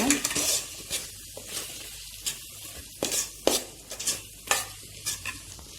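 Chili powder and coriander powder stirred into frying masala in a pan for mutton biryani: repeated scraping spoon strokes in an uneven rhythm over a steady sizzle, close and fairly loud, with no talking.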